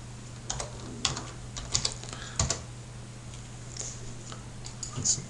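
Computer keyboard typing, scattered light key clicks in small irregular bursts, close and fairly quiet over a low steady electrical hum.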